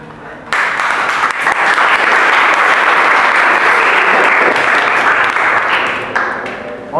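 Audience in a classroom or lecture hall applauds after a student's presentation, a loud, dense burst of clapping that starts abruptly and fades near the end.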